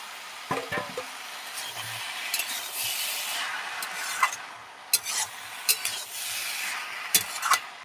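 Fried potatoes and peas sizzle in a pan while a utensil stirs and scrapes, giving a steady hiss broken by several sharp metallic clinks.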